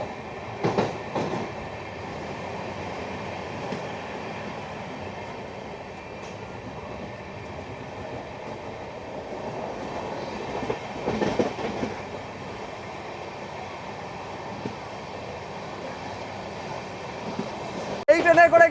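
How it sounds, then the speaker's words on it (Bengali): Shahid Express passenger train running at speed past Liluah station, a steady rumble of rolling wheels and carriage noise with faint rhythmic clatter throughout, close and continuous, with a sharper knock near the end. "কারণ কি স্পিড কিন্তু ধরে নিয়েছে শহীদ এক্সপ্রেস"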